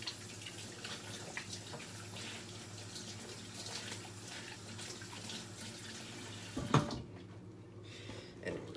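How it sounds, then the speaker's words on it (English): Water runs steadily from a kitchen tap as hands are wetted while working sticky bread dough, a soft continuous splashing flow with a brief clatter near the end before it stops. "Let's get our hands wet one more time."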